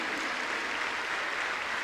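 A Pentecostal church congregation claps together, a dense and steady wash of applause lasting a moment without pause.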